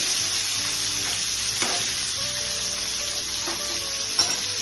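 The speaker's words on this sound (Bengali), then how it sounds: "মাছ ফ্রাই কড়াইতে তেল দিয়েছি। দিয়ে এভাবে মাছগুলোকে দিয়ে দিলাম।" Three pieces of eyl fish fry in hot oil in a kadai, a loud steady sizzle and crackle throughout with a few faint clinks of a utensil.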